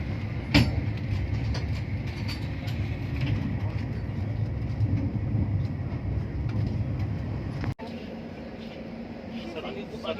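The Rewa Anand Vihar Express, train 12427, rolls along the rails in India, a steady low rumble and rattle heard from inside the passenger car, loud and continuous with a brief sharp break near the end.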